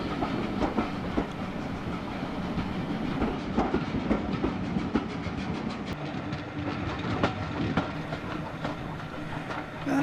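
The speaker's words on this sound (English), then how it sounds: "As the train steams back to Rothley" A steam train departs, rumbling steadily along the rails with rhythmic clicking and clanking, a continuous mechanical roar throughout.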